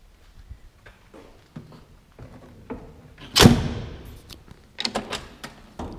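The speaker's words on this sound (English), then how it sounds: "Nothing sounds better than when these old car doors close." The solid door of an old Chrysler Imperial slams shut with a loud, heavy thunk, preceded and followed by quieter shuffling and small knocks.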